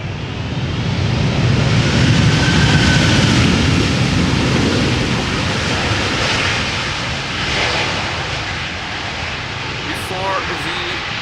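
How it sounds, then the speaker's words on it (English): A loud, sustained jet roar from an airliner landing at Amsterdam Schiphol using a little reverse thrust. The broad rushing noise swells early, then slowly eases off while staying heavy throughout. "Before the spoilers got raised, a little bit of reverse thrust."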